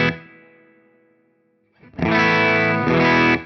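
A guitar chord through a Hamstead Artist 60+RT amp with its boost switch at the 3.5 dB setting rings out and fades. It is then struck again and sustained with a loud, overdriven, breaking-up tone, alone with no talking.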